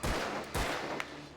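Gunfire in the video game Alan Wake, a few loud broadband bursts near the start, around the half-second mark and at one second, over a dense, noisy game soundscape.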